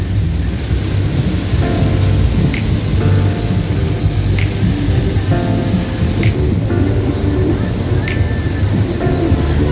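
Heavy rain pours steadily during a stormy day in Ngaraard State, Palau, a loud continuous hiss with occasional splashes and a low rumble beneath, close and dense throughout.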